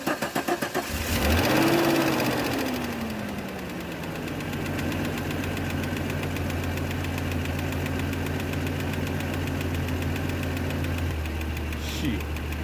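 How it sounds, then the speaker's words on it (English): A 1989 Jeep Comanche Eliminator engine cranks, catches and starts, revving up then settling into a steady close idle with a faint ticking, and no voices over it. "Let's see how this thing starts up now."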